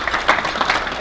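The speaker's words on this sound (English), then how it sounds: "Give Tony a round of applause." A brief burst of crowd applause at a family business awards event, many hands clapping together in a dense, fairly close wash for about a second.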